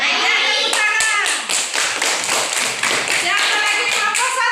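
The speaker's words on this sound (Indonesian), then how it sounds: "Ya, tepuk tangan." A classroom of pupils claps their hands in a loud, dense burst of crisp slaps that runs for several seconds, with a few children's voices calling out over the clapping.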